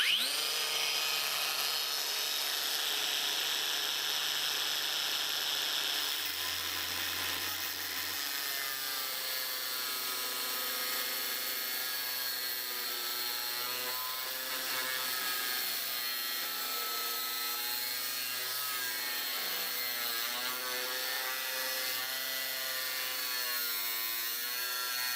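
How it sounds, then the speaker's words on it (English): An angle grinder cuts through a metal piece for a homemade router fence, producing a loud, steady high-pitched whine that holds for the whole stretch, its pitch wavering slightly as the disc bites into the metal. "all I'm going to do now is cut that down with the angle grinder, but because this is metal"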